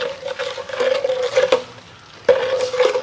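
Green chillies are stirred with salt and yogurt in a metal vessel for mulaku kondattam, producing close, scraping, clinking strokes with sharp metallic knocks, a brief pause, and a sustained ringing tone under the mixing.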